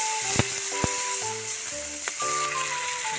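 Sardines frying with garlic and caramelized onion in a pan for pancit, a steady close sizzle with a few sharp clacks of a utensil over faint background tones.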